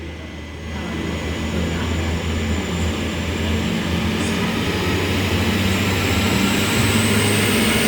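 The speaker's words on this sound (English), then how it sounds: "here we go, the J-set's departing back to the yard" A J-set passenger train pulls away toward the yard, a steady, loud rumble with a low engine drone and faint wheel squeal that holds evenly throughout, with no voices.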